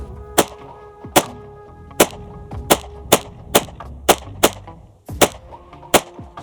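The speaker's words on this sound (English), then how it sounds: "These are the first shots ever out of this Glock 26." Nine sharp gunshots from a Glock 26 pistol firing S&B 124 grain full metal jacket ammunition ring out at a steady, unhurried pace, loud and close, with a short gap before the last two.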